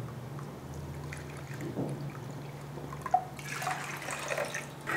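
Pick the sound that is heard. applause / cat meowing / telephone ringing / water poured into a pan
water poured into a pan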